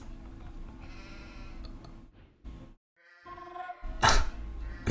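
Sheep bleating in the Age of Empires strategy game, two short bleats, the second loud and close, over steady game ambience with brief gaps of near silence.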